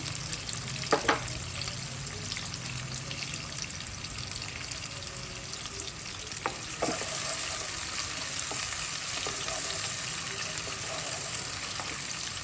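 Onions sizzling in a pan for chicken curry, a steady close hiss with a couple of clanking spatula stirs, the frying swelling slightly louder partway through.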